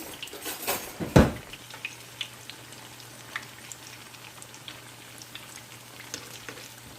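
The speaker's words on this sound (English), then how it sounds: "Once the akara is ready to be flipped, you will see them coming up at the oil." Akara bean fritters frying in hot oil with a soft, steady sizzle, opened by a clatter of a utensil against the pot as they are flipped, then a continuous low hum of frying.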